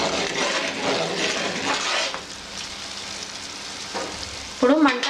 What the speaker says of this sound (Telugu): ఇప్పుడు ఒకసారి కలుపుదాం.